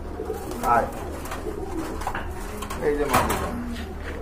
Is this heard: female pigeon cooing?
yes